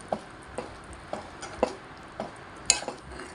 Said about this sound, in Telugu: ఇలా మంచిగా కలుపుకుందాం